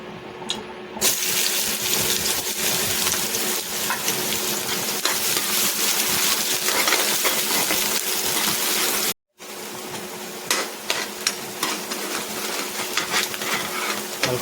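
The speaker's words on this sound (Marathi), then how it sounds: "चांगलं तेल गरम झाल्यानंतरच आपण कांदा त्याच्यात घालणार आहोत." Onion frying in well-heated oil, a continuous loud sizzling hiss with scattered crackles and pops, briefly cut off near the end before resuming.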